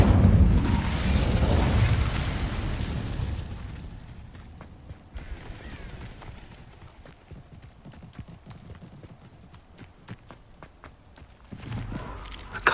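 Incendio fire spell cast in Hogwarts Legacy, a loud roaring burst of flame at the start that fades into clopping hoof steps and small clicks, then a second burst near the end.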